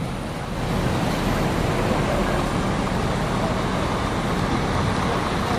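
The last ANS bus of the night departs the Pondok Pinang Lebak Bulus terminal for Ranah Minang with a dense, continuous engine and traffic roar, building slightly after a quieter first half-second, and a voice talks beneath it.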